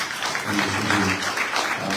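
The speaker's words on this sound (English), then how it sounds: "Give him a lovely round of applause, please" An audience at a Hindu temple's grand reopening breaks into a short, dense burst of applause, a continuous wash of many hands clapping at moderate volume with a low murmur of voices beneath.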